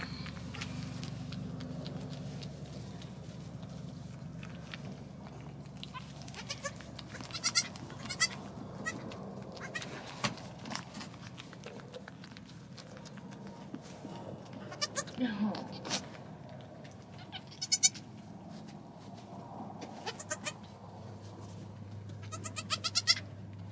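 Newborn goat kids, a chamoisee doe and a buckskin buck, give faint, intermittent short bleats over a quiet background, while people talk softly at times.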